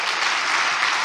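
A church congregation applauds in a dense, sustained burst of clapping that fills the whole short moment without any talking.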